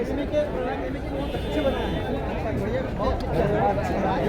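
Dense babble of a packed cinema crowd on a film's second screening day, many overlapping voices chattering close by in a continuous hum.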